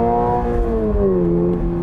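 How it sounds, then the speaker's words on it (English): A 2022 Subaru BRZ Limited engine revs up high and then falls back, a loud, close, smooth whine that slides down in pitch over the short clip. "I just want to rev it out one more time here."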